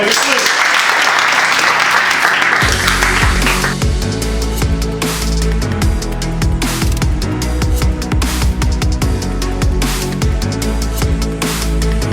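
A large football stadium crowd applauding and cheering in support of FC Bukovyna, loud and sustained, with rhythmic clapping and voices mixed throughout.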